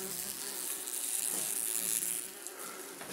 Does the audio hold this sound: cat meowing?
no